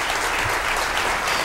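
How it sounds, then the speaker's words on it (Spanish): Dense, steady applause from a studio audience at a 1995 television interview with Caifanes in Mexico, a continuous wash of clapping with no talk over it. "No es normal que aplaudan las entrevistas"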